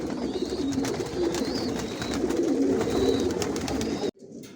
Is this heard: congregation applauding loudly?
no